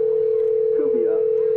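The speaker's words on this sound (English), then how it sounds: "I think you probably hear the phone ringing in the background." A telephone line sounds a steady, unbroken ringing tone while a call connects on a sports radio show, with faint voices briefly audible underneath.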